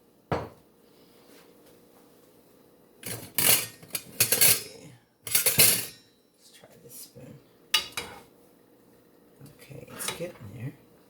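A bowl for oatmeal is handled in a home kitchen, giving several sharp, close clatters and knocks of dishware with quiet pauses in between.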